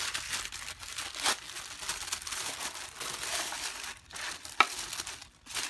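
Tissue paper rustles and crinkles steadily as an embellishment box is unwrapped, a close, dry papery texture with a few sharper crackles and no talking.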